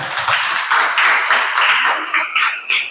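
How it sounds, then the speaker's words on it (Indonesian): A classroom audience claps for a student group's presentation during a teacher performance assessment, a steady patter of hand claps that swells and fades in bursts for about three seconds with no voices over it. "coba kita beri aplaus dulu kelompok 3"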